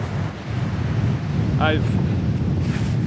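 Sea waves at Rattray Head make a steady, broad rush of surf with wind buffeting the microphone throughout, and someone speaks briefly over it.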